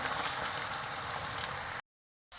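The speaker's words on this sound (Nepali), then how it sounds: "अब म तेल तातेँ, यसलाई च्याउलाई फ्राई गर्ने अलिअलि गरेर गर्नुपर्छ" Mushrooms fry in hot oil with a close, dense, steady sizzle that cuts out abruptly for a moment, then resumes.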